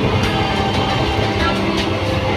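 Inside a nearly empty moving passenger train, a loud, continuous rumble and rattle of the carriage runs steadily throughout, with no clear speech.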